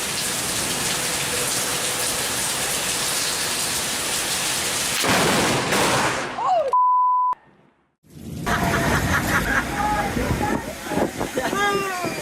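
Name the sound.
strong wind and rain storm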